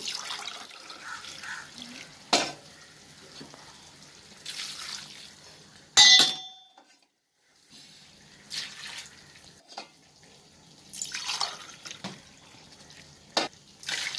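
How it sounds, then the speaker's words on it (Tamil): Water pours in several bursts into a pot while mutton biryani with basmati rice is being cooked, splashing at close range with short pauses and a brief silence in between. "இப்போ வந்து 11 கிளாஸ் ஊற்றினா போதும் தண்ணி"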